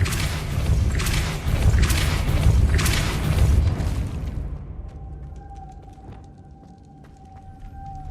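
A Depulso spell cast in a Harry Potter video game gives a loud, deep booming blast that rumbles for several seconds, then gives way to a quieter tail with a thin sustained tone and faint clicks.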